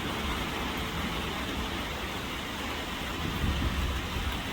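Heavy, steady rain pours down along a country road, a dense continuous hiss with a low rumble underneath and no voices.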